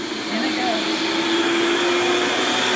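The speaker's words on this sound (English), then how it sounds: "That's the Vitamix making a smoothie in the background." A Vitamix blender whirs steadily in the background of a home kitchen while a smoothie is made, a continuous broadband roar with a faint tonal hum, moderately loud throughout.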